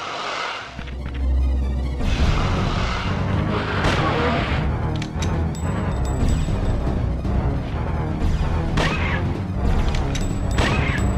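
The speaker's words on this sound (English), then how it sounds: "Shots, four shots." Gunshots in the survival horror game Dino Crisis: several loud, booming shots ring out over dense game noise and rumbling, spaced irregularly across the stretch.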